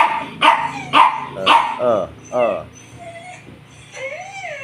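Puppies bark and yip in quick sharp bursts close by, then whine softly, while people talk excitedly over them.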